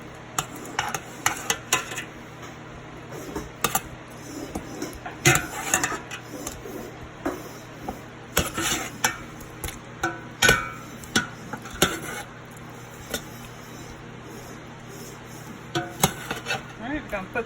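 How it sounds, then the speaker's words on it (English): Baked chicken pieces are flipped in a pan, with scattered clinks and scrapes of utensil against pan over a low background hiss, in irregular bursts throughout. "I'm going to go ahead and give these a flip too."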